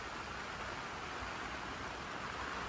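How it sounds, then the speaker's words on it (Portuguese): Heavy, steady rain drums on a tent during the worst of a downpour, a dense continuous hiss with no let-up across the whole stretch and no voices. "Agora nós estamos na parte da chuva mais forte, vamos ver."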